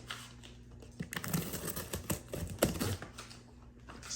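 A blade slices and tears through the cardboard box of a Hisense 8000 BTU portable air conditioner, irregular crackling and scraping bursts up close, fairly quiet, without speech.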